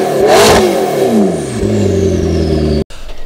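A Liberty Walk-modified McLaren 650S exhaust roars through a sharp rev, the pitch climbing and falling back, loud and close, before cutting off abruptly.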